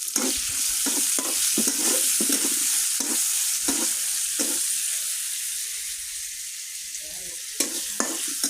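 Chopped onion and chili fry in a pan with a loud, steady sizzle, broken by rhythmic scraping strokes of a spatula repeating about once a second, close up.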